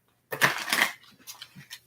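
Tarot cards are shuffled by hand in a brief, fairly close riffle of papery rustling, followed by a few soft taps and a quiet pause.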